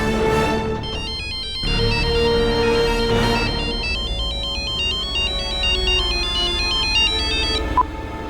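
A phone ringtone plays over and over while a call to someone goes unanswered. The bright, tinkling melody repeats in clear phrases that are broken by short gaps, and no one speaks over it.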